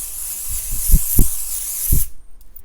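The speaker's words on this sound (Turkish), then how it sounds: "Tekrar Flormar'ın sabitleme spreyini sıkıyorum." Flormar makeup setting spray hisses in a bright continuous burst for about two seconds, close and loud, with a few soft low pump thumps beneath, then stops abruptly.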